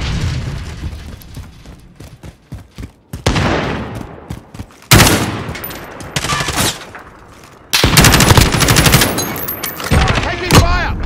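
Gunfire in the video game Call of Duty Modern Warfare during a free-for-all match, loud rapid automatic bursts and heavy booms repeating in close succession, dense and near.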